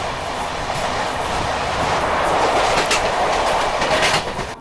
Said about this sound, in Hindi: ये है रत्नाचल एक्सप्रेस, और अभी वापस विशाखापट्टनम से विजयवाड़ा की तरफ जा रही है।